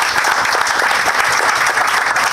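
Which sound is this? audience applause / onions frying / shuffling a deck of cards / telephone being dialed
audience applause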